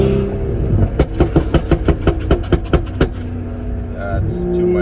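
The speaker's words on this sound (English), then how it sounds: "I can set it to my 4th map, which I have the burbles turned all the way up" A tuned BMW with an exhaust cutout fires a rapid string of about a dozen loud, sharp burbles and pops on deceleration, close by, then settles into a lower engine hum.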